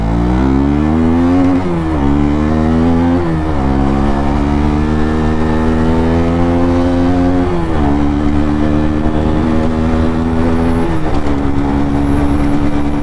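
A KTM RC 200 motorcycle engine revs hard and loud during a burnout on a tyre with lowered air pressure, a continuous roar whose pitch repeatedly climbs, dips and climbs again with no talking over it.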